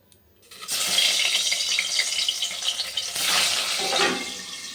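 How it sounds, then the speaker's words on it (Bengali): Boal fish frying in oil in a wok, a loud, continuous hissing sizzle that erupts suddenly as the fish goes in and keeps bubbling and crackling close by, with no talk. "কড়াইতে তেল দিয়ে দিয়েছি, মাছটা ভেজে নিই"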